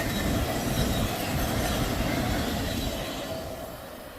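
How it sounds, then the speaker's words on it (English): A train rolls past on the railway at Sandusky Bay, a steady loud rumble of wheels and cars that fades slightly toward the end, with no talking. "Hey, whole minute and 4 seconds of train there"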